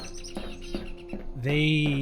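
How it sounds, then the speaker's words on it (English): Morning birds chirping in the video game Voices of the Void: several short, sharp chirps in a steady rhythm, followed by a louder sustained whistling call. "It's the sound of the birds in the morning."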